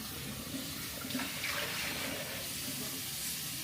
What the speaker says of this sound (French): Il ne reste plus qu'à rincer.